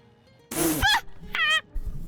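A chicken squawks twice in Divinity: Original Sin, two short, close, bright clucking cries separated by a brief pause against a quiet background.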